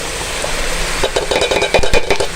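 Onions tipped into bitter gourd (karela) frying in a pan for a karela gosht curry: steady close sizzle, then from about a second in a burst of clattering stirs and spoon clinks against the pan.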